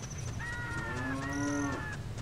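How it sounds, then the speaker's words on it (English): A cow in The Legend of Zelda: Ocarina of Time lets out a clear, drawn-out moo, a single tonal call with a rising and falling pitch, heard alone over a low ambient hum. "Where is the cow mooing from?"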